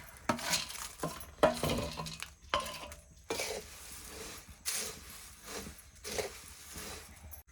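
Bhel ingredients being stirred and tossed together in a pan over a wood-fired stove, repeated bursts of dry rustling and scraping with a few metallic knocks, close and uneven in rhythm.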